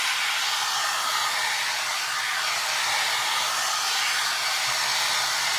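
A hair dryer blows steadily and loudly at close range while drying a craft book, a constant breathy whoosh with no other sounds.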